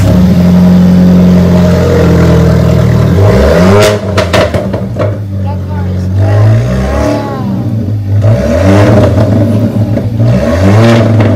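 An Alfa Romeo 4C sports car engine revs loudly and close, with a steady drone that breaks into several rising accelerating sweeps and gear changes.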